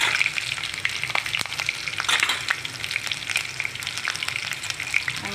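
Curry leaves, chili and cumin sizzle hard in hot oil, a dense crackling fry with scattered pops and a few brisk stirring strokes, close and continuous.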